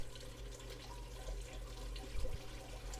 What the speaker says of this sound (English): you can see the water dripping through it